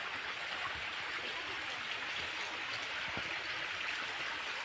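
River water rushes in a steady, continuous flow beside a traditional Konkan fishing spot, a close, even wash with no voices over it.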